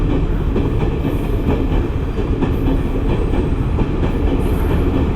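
A train passes close by near Nuwara Eliya in Sri Lanka, a loud, continuous rumble with rhythmic clickety-clack of wheels on rail joints and faint high squeals, filling the whole stretch.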